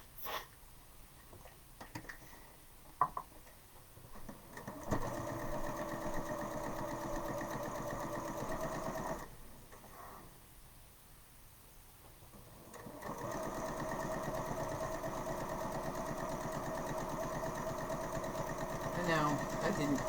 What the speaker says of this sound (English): I'm just going to sew my 4 patches together.